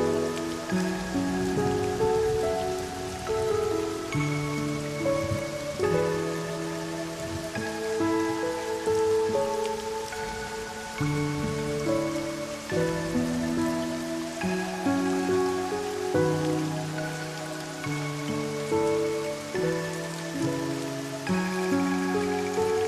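Heavy rain falls as a steady, dense wash of noise under prominent music that plays throughout.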